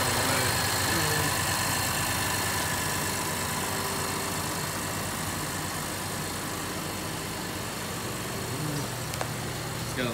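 A 2017 Acura MDX Advance with a 3.5 L J35Y5 engine, all-wheel drive and 49k miles, idles in a steady, even hum that holds unchanged for about ten seconds.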